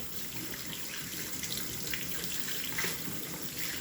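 Running tap water pours steadily as hands are rinsed at a sink during kitchen prep, a continuous close hiss with no speech.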